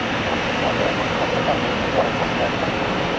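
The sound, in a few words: jet airliner engines on takeoff roll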